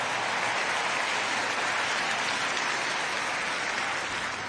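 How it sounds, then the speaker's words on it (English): An awards-ceremony audience at the 2024 James Beard Restaurant and Chef Awards in Chicago breaks into dense, steady applause that fills the hall at an even, loud level throughout. "give them a round of applause"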